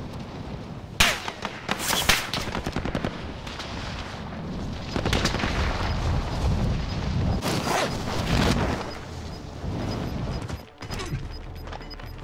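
Call of Duty: Modern Warfare gunfire during a battle royale match as the gas closes in, with scattered sharp shots and heavier bursts recurring throughout amid rustling and mechanical game noise.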